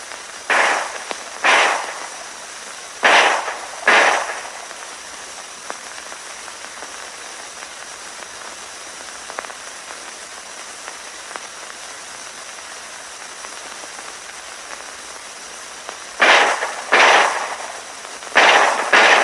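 M1911A1 pistol shots at wartime firing practice ring out in loud, sharp pairs and small bursts, with a quiet stretch in between and a rapid cluster of reports at the end.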